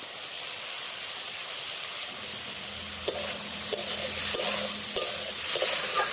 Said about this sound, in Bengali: আর পেঁয়াজ আর চিংড়ি মাছ ভালো করে কষে নেওয়া হয়ে গেছে।